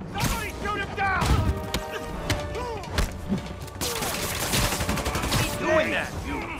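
Gunfire from thugs in Spider-Man Remastered crackles in quick volleys amid combat thumps and hits, with voices talking over the chaotic, busy fight.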